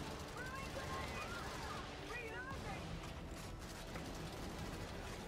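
Bursts of gunfire rattle during a PS4 Helldivers mission against the Illuminate, a continuous busy barrage of shots and booms under muffled voices.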